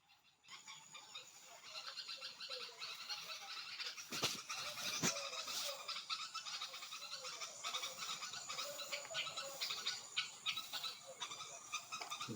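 Distressed birds calling loudly near a slipping nest holding two chicks, a dense stream of shrill chirps and cries with a few sharper knocks, continuing throughout at close range.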